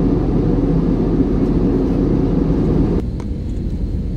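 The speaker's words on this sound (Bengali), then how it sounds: "প্লেন কিন্তু এবার আমাদের ল্যান্ড করবে" Steady, loud roar of airplane engines heard from inside the cabin as the plane comes in to land on a Kolkata to Guwahati flight, the droning rumble easing slightly near the end.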